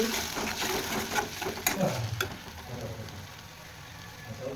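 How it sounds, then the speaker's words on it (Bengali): Ginger, green chilli and tomato paste are stirred in a hot cooking pan, with a soft sizzle and a few scraping strokes that fade to a quieter simmer. "পেস্টটা দিয়ে দিচ্ছি, ভালো করে নাড়িয়ে দিচ্ছি।"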